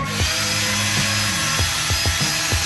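A power tool, likely a drill with a wire brush, runs steadily while scrubbing rust off a Subaru Forester brake part, with a continuous whine and several short bursts of louder grinding contact near and loud.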